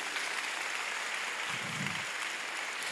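A church congregation applauds: steady, dense clapping fills the whole stretch at an even level, with no pause or voice over it.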